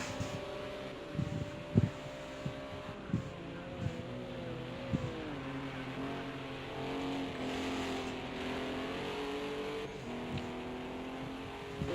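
A yellow and black GT4 race car circles the Red Bull Ring during qualifying, its engine droning steadily with rising and falling revs and a few sharp bursts, loud and continuous throughout.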